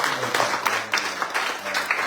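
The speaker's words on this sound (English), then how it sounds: "give a round of applause" Round of applause from a church congregation at a live service, moderate crowd clapping with irregular peaks over a murmur of voices.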